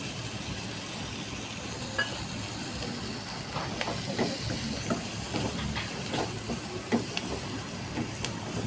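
Cluster beans sizzle in a hot pan as crushed peanut powder is added, a steady soft hiss with scattered faint pops and crackles.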